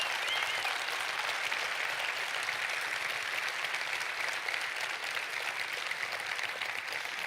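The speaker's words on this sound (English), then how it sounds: "We should give these guys an applause." A crowd at the EVE Online Fanfest gaming convention claps in sustained, even applause that holds steady for several seconds, dense and fairly loud, with no voices standing out.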